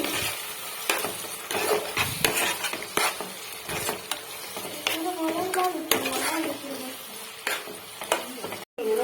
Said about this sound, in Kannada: dark soya sauce ಪಾಡೋಂಡೆ mix ಮನ್ಪೋಡು